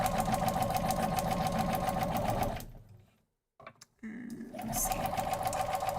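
A sewing machine runs in a quick rapid whir, stops briefly while a voice says a couple of words, then starts up again at the same pace.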